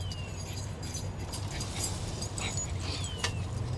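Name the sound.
dogs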